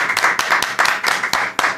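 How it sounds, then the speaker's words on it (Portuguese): Applause breaking out as a pastor is welcomed onto a church podcast, a dense wash of clapping hands with sharp individual claps standing out, steady and close throughout. "Aplausos."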